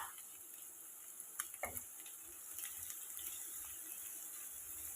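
Long-sliced onions dropped into hot coconut oil sizzle with a constant fine hiss, a few clicks of stirring early on, heard close and quiet with no talk.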